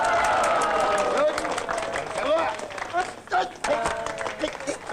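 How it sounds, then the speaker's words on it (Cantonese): A crowd claps its hands at a martial arts street performance, with the clapping mixed under loud shouting and lively talk. "拍掌，拍掌。"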